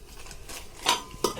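A cake tin set into a kadai and covered with a lid gives two clear metallic clinks, a soft clank followed by a sharper one, close by in a quiet kitchen.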